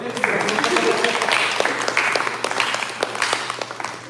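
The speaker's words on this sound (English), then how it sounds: "Give him a clap" Audience at a temple gathering applauding a first-time visitor, a short burst of dense clapping with scattered sharp claps, fairly close, over a faint steady hum.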